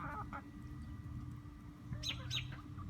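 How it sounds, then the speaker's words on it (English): Backyard chickens clucking nearby, faint soft clucks and a few brighter squawks over a low background hum, with no talking. "we're visiting with the chickens."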